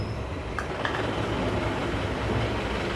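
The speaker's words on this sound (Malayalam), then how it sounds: "വണ്ടി പോകുന്ന സൗണ്ടാണ്." A train rumbles past outdoors in a steady, continuous roar, with faint clickety-clack and wheel noise and no voices.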